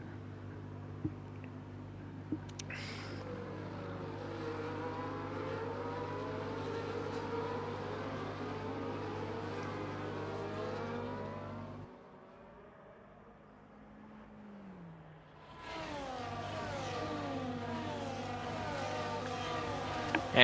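Racing cars in an Online Racing League sim race at the Dutch Grand Prix, engines droning steadily and revving at a constant pitch, with a brief quieter gap mid-clip as the cars pass before the engine roar returns.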